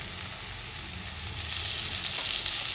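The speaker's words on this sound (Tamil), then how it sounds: "நம்ம கட் பண்ணி வச்சுருக்குறோம் வெந்தய கீரை இதை போட்டுடலாம்" Chopped fenugreek leaves hit a hot pan and sizzle steadily, a close, even hiss that swells slightly toward the end with no talking.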